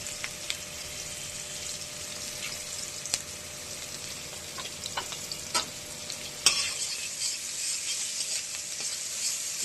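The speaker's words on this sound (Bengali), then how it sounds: "তেল গরম হয়ে গেছে। এবার ভেটকি মাছটা যে করব, পেঁয়াজ দিয়ে দিচ্ছি" Onions sizzling in hot oil in a pan for a fish curry, a steady bright frying hiss with occasional crackles and stirring clicks, close and continuous without talk.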